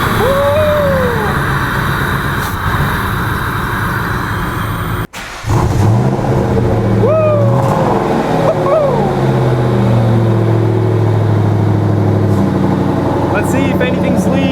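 Ford Mustang Mach 1 found under a tarp, its revived engine running at a rough, uneven idle up close, with a brief cut midway and people talking and cheering over it.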